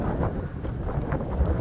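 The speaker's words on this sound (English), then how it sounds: "Bit of a windy day." Gusty wind buffeting the microphone on an open stretch of land, a steady low rumbling roar that covers the whole stretch with no voices.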